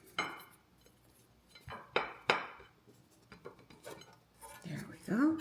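A Valentine cake baked in an air fryer is turned out of its pan, with light clinks and sharp knocks of the pan against a plate and surface, several close taps spread over a few seconds amid quiet handling noise.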